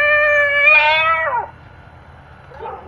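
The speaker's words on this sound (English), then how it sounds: "Crying kittens." Crying-kitten call played through a Little Big Horn 25-watt digital game caller: a single loud, electronic kitten mew with a rising then falling wail, lasting about a second and a half, followed by a quieter trailing cry.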